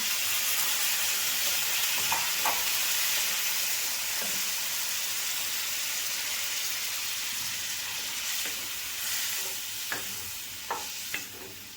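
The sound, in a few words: water added to frying potato and spice masala, sizzling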